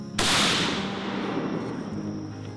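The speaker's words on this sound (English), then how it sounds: "fire off a few this morning for old school purposes" A Springfield Armory M1A Scout Squad rifle firing hand-loaded rounds outdoors lets off one sharp, loud shot followed by a long rolling echo that slowly fades.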